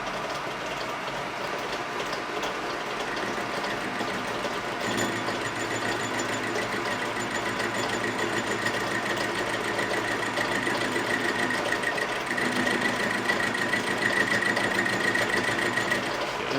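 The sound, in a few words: Lantaine LAM-350H metal lathe cutting metal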